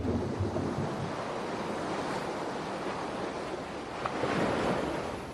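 Strong waves strike the coast and drag sand along the shore, a broad continuous surf roar with wind noise, swelling slightly near the end, with no voices.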